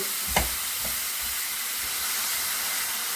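Grated coconut and jaggery being stirred in a pan, with a steady frying sizzle and hiss and a couple of brief scraping knocks near the start, and no talking.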